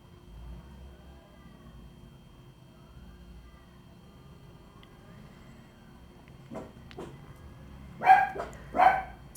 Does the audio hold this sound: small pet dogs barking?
yes